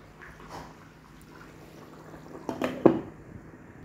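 A pan of fish curry simmers with soft, faint bubbling, then a lid clatters down onto it with a couple of quick metallic knocks.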